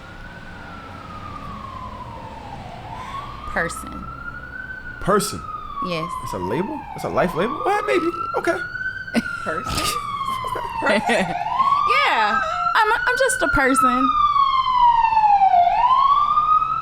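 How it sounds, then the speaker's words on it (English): An ambulance siren wails repeatedly as it passes along a New York street, its rising and falling tone cycling steadily and growing louder toward the end, heard under ongoing conversation. "And that's the ambulance."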